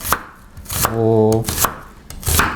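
A knife slices half an onion as thinly as possible on a cutting board, giving a few sharp, close chopping strokes separated by short pauses, with a brief voice-like tone between them.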